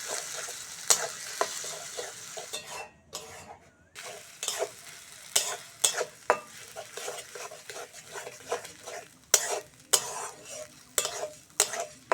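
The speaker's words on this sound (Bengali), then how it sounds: "তেলের মধ্যে দিয়ে দেবো বেটে রাখা সিম আর বেগুনটা" Ground flat beans and eggplant frying in mustard oil with dried red chillies, a constant sizzle broken by frequent sharp scrapes and clacks of a spatula against the pan, close and fairly loud.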